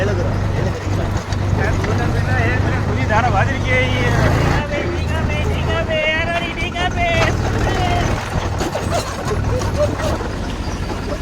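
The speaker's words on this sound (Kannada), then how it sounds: "ಈ ಥರ ಟ್ಯಾಕ್ಟ್ರಿಲಿ ಹೋಗೋದು ಒಂಥರ ಮಜಾ" A tractor drives through sugarcane fields in Mandya, its engine loud and steady throughout with a constant low rumble, while voices talk over it.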